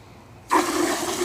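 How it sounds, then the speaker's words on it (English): A garden hose suddenly starts pouring water into a gallon pitcher, a loud, close, steady rushing gush that begins abruptly and continues with no talking. "going to fill the rest up with water."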